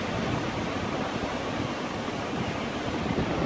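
Ocean waves roll onto the beach at Oak Island, a broad, continuous rushing wash of surf that stays steady and fairly loud throughout, mixed with some wind.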